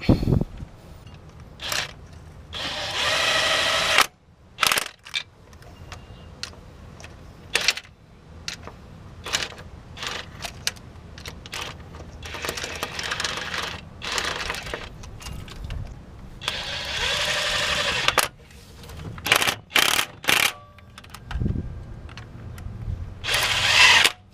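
Power tool tightening motor mount bolts on a 2004 Toyota Camry with a 2AZ-FE engine during an engine swap, with repeated short bursts of drilling and whirring separated by pauses and light clanks.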